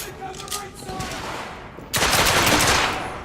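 Gunfire in the video game The Order 1886, scattered shots and then a dense, loud burst of rapid automatic fire, with voices talking over the early part.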